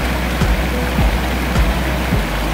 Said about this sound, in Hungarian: Hát ez nem annyira patak, ez már Zuhatag